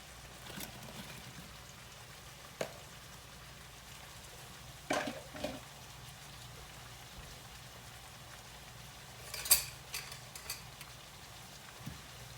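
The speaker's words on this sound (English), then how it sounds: "we're going to give them a toss in the butter so they get good and coated with the butter mixture that's melted in the bottom of the skillet" Apples are tossed in melted butter in a skillet, giving a soft continuous sizzle with scattered light clatters and bumps, fairly quiet and with no talking.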